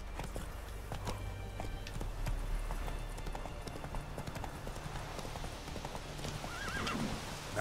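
Roach, a horse in The Witcher III, gallops with steady clip-clop hoofbeats and lets out a whinny near the end, over a continuous background of game ambience.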